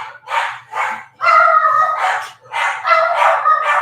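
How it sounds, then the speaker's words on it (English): Several dogs bark in loud, close bursts, five or six barks in a quick irregular run with short gaps between them and no talking. "And there go the dogs for whatever reason."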